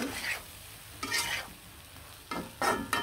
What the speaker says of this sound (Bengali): টমেটো, আলু, কালো বেগুনগুলো দিয়ে কিন্তু ভালোভাবে কষিয়ে নিব।